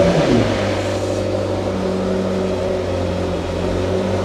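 A McLaren 650S Spider, a crashed car being rebuilt, fires up and settles into a steady running engine note, close and continuous with a few rising tones at the start.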